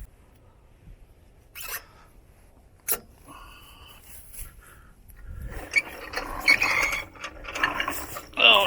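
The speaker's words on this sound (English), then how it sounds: "I'm going to unlock the spool on my winch, get it stretched out" Jeep YJ winch with its spool unlocked as the cable is pulled out, giving scattered ratcheting clicks and metallic rattles that build into denser, louder clattering toward the end, close by.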